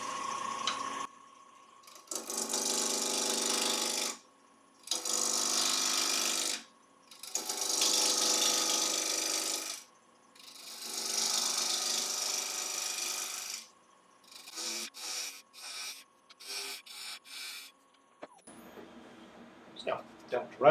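Wood spinning on a lathe at about 1200 RPM is cut with a 3/8 inch ball gouge, giving repeated raspy, hissing passes of a few seconds each separated by short pauses, then shorter scraping touches.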